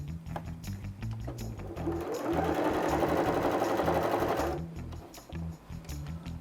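A sewing machine stitches through doubled fabric in a fast, steady run of a couple of seconds, loud and close, with slower mechanical clicks before and after.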